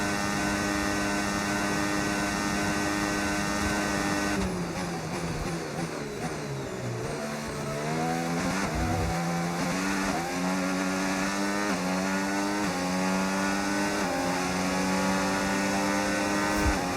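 F1 race car engines in the F1 25 racing game wail continuously, pitch climbing and dropping through rapid gear changes as the cars accelerate and brake, loud and sustained with overlapping engine notes.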